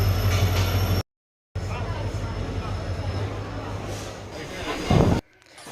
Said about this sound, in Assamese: আৰু আমাৰ এয়া ট্ৰেইনখন আহি পালেহিয়েই